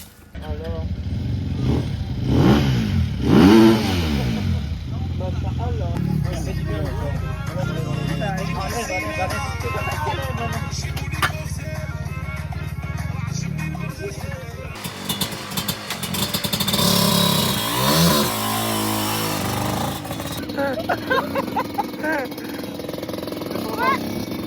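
A brand-new motorcycle fresh from the shop idles and revs at a race event, the engine running loud and steady throughout with a few louder bursts, while people talk over it nearby.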